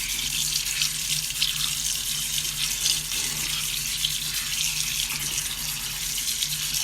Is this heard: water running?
yes